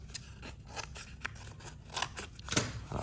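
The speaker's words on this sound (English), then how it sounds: "I would just cut some tabs" Scissors cut tabs into paper for a papier-mâché mask horn, a rapid series of close, crisp snips in an irregular rhythm, with no talk over them.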